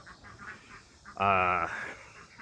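A single loud, nasal duck quack sounds up close, preceded by softer, fainter calls in the background.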